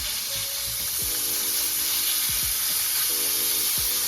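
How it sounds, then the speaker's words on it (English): Broken-up steak meat sizzles in a skillet with leftover oil from vegetables, a loud, steady frying hiss held close, marked by a few sharp utensil scrapes and knocks against the pan. "let's go ahead in this same skillet and let's add our steak meat"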